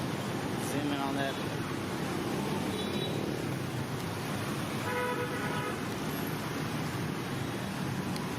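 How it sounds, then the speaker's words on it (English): Busy street traffic in Vietnam, a steady roar of engines and scooters with short car horn toots near the start and middle, heard continuously throughout. "Here's another shot of the traffic."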